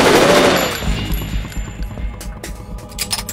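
Burst of gunfire from the video game Metal Gear Solid 2, a loud rapid volley of shots with clattering impacts and a fading tail, heard alone without voices.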